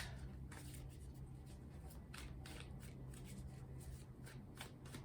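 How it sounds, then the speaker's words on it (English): Tarot cards are shuffled and pulled for a reading, a steady run of soft riffling and sliding card sounds with sharper flicks throughout, close and fairly quiet over a low background hum. "So I'm going to pull some final cards for you."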